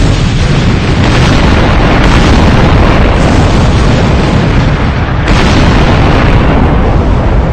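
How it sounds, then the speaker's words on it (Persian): Loud explosion near a school: a sustained, heavy, roaring blast that fills the whole clip, very loud and close, with no talking. "صدای اون انفجاری"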